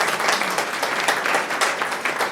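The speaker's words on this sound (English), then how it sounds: "With a big round of applause, I invite Mr. Anirban Vishwa on the dais" A startup conclave audience applauds to welcome a guest speaker onto the dais, a short burst of moderately loud, steady clapping from many hands that lasts a couple of seconds.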